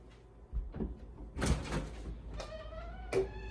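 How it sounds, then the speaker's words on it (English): A front door in a new home opens with a few close knocks and a rattling thud, followed by a brief tonal squeak, moderately loud against a quiet room. "So when you open the door,"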